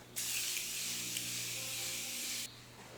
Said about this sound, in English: I'm going to spray down my face.